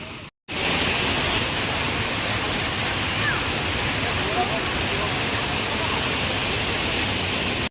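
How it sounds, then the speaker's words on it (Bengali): Gundicha Ghagi waterfall roars as several streams of water fall at once, a loud steady broadband rush filling the scene from start to end after a brief gap near the beginning. "এই যে গুন্ডিচা ঘাগি ওয়াটারফলস, আরে জলের যে আওয়াজ, আর অনেকগুলো ধারা।"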